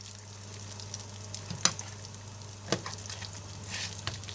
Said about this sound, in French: Et ici, j'ai mis un petit filet d'huile pour que ça croustille, mais que ça ne brûle pas.